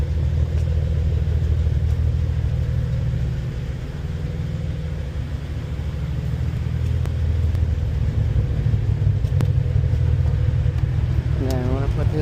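Cadillac ATS-V with a ZZP cold air intake and tune rumbles steadily at close range, a deep continuous exhaust drone that eases briefly before swelling again, with a quick rising blip near the end.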